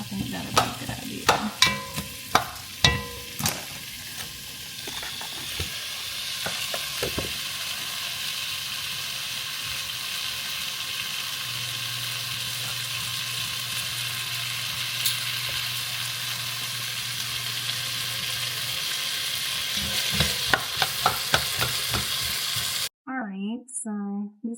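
Lasagna soup ingredients sizzle and cook down in a pot, with a steady close frying hiss. A few stirring clatters and knocks come at the start and again near the end.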